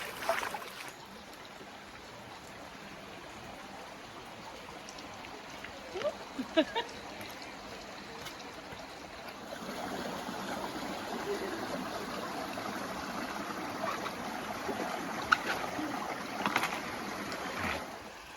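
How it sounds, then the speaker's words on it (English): Water trickles and drips down the fern-covered canyon walls of Fern Canyon at Prairie Creek, forming a steady soft wash with brief louder spatters and a fuller flow in the later half. "Dripping right off the sides."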